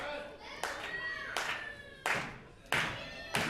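Wrestling crowd clapping in rhythmic bursts behind wrestler Brent Banks during a bout against Tyson Dux, roughly five sharp claps spaced evenly, moderately near, under a commentator's voice.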